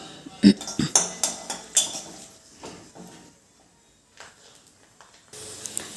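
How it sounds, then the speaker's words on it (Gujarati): Finely chopped garlic sautéed in a pan for a fenugreek-leaf and potato dish, with a spatula clattering and scraping against the metal in quick close strokes before fading to a faint sizzle. "તો એ એડ કરી દઈશું અને આ લસણને થોડું આપણે સાંતળી લઈશું"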